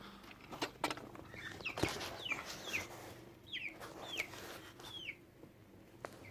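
Chickens in a farm corral, several hens giving short, rising clucks and squawks one after another at close range, with a sharp knock and faint rustling around them.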